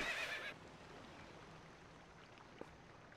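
A horse in The Legend of Zelda: Twilight Princess gives one short, loud whinny at the start, followed by quiet background ambience.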